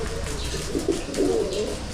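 Pigeons in a new loft give soft, repeated low coos, a few close calls rising over a steady background murmur, with no talking.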